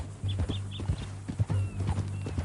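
Horse hooves clip-clop steadily in Red Dead Redemption 2, a rhythmic run of close, fairly loud hoof falls on a ranch path, with faint chirps above.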